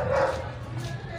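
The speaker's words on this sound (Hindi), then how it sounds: "इधर से कुत्ते की आवाज़ें आ रही हैं," A dog barks from inside a closed house, a single muffled, moderately distant woof followed by fainter yipping under background hum.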